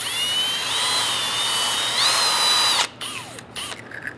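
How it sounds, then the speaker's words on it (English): Drill-driven mini bore brush cleaning rust from a brake caliper bore on a 2005-2010 Chrysler 300, with a steady high whine for about three seconds before it stops into brief scraping and clicks. "we're going to use a mini bore brush. We're going to put that inside. And we want to clean out the bore inside."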